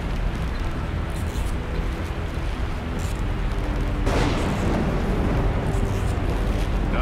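Thunder in the video game Call of Duty: Modern Warfare 3, a low continuous rumble that swells into a louder crack and rolling boom midway, loud and close, with no voices.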